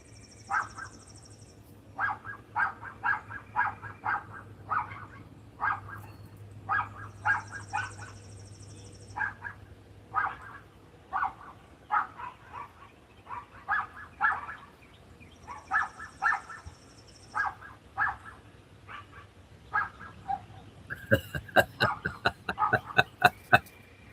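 Dogs bark in repeated short bursts at moderate distance across a quiet morning, with birds chirping faintly between barks and a quicker, denser flurry of yips near the end.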